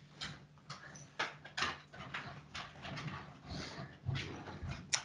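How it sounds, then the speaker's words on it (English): Freshly groomed puppy at home, its light claws clicking and pattering on a hard floor in irregular taps, with a soft whimper near the end, close and fairly quiet. "she's a very happy puppy to be home"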